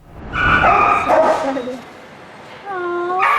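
Several dogs at a pet adoption shelter bark and yip in a lively cluster near the mic, with high whimpering cries at the end and a voice talking underneath.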